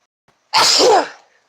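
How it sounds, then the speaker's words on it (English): A single loud, close sneeze bursts out after a short quiet moment and fades quickly, with no talking over it. "Sneeze again."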